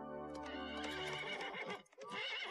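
A horse whinnies loudly in a long shrill neigh that breaks into snorting and hoof clatter, part of a film soundtrack with no talking.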